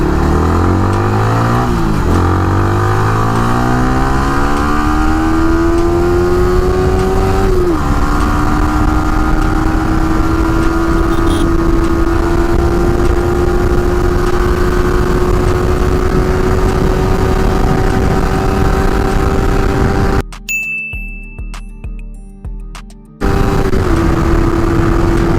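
A Yamaha Sniper 155 with a 14-43 sprocket combination makes a top speed run, its loud, close engine rising steadily in pitch as it accelerates through the gears, then briefly cutting out before the roar resumes.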